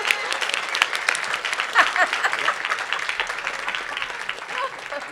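Warm, sustained applause from an audience at a school district swearing-in ceremony just after an oath of office, steady clapping with a few voices and light chuckles mixed in throughout.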